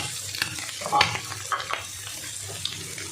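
Boiled pasta being stirred through a frying pan with potato, egg and chilli, a soft scraping and sizzling texture with a few sharper spatula knocks against the pan, close and moderately quiet.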